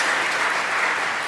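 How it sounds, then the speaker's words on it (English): Applause from a church congregation at a confirmation service, a dense, steady burst of clapping filling the short moment without any talk. "Give Parker a big round of applause."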